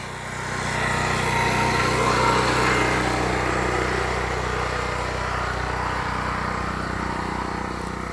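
Predator portable generator running after a cold start following eight months of winter storage: a steady, moderately loud engine drone that rises in the first second and holds evenly without talk.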